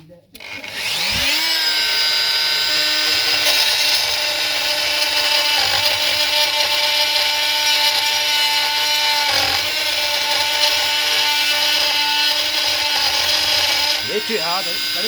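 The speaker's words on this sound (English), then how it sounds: "Cutting that wee pipe on there, it's been hard enough getting an angle grind in there" An angle grinder spins up and cuts through a small pipe during a DIY fireplace job, a loud, sustained high whine close by that holds steady before winding down near the end.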